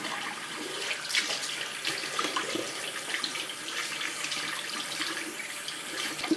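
Tap water runs steadily into a salon sink as color is rinsed from hair, a continuous close splashing hiss with no voices.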